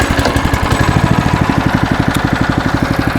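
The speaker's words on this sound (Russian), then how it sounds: "И заводим пламенный мотор." A motor on a narrow-gauge railway vehicle starts and settles into a steady, rapid rhythmic chugging, loud and close, pulsing evenly throughout with no talk.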